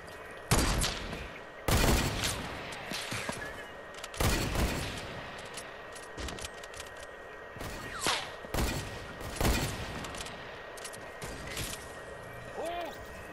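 Gunfire in a video game: loud separate sharp shots and short bursts spread irregularly across the scene, with voices talking between them and a ringing tone near the end.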